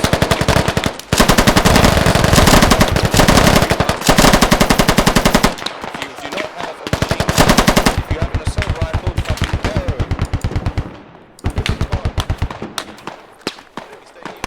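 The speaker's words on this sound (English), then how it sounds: "We're taking fire from the right." Dense machine-gun bursts and rifle fire in the military shooter game Squad, loud and near, long rapid strings broken by short pauses, with sporadic gunshots and radio-style voices underneath.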